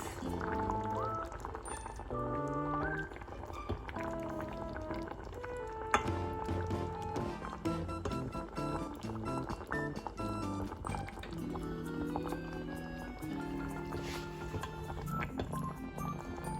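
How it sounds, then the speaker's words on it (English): Hard-boiled eggs pushed down into a spicy cassava and egg curry gravy in a pot, with soft wet squishing and liquid movement under steady background music. "we are going to push it down so the gravy can get inside the eggs"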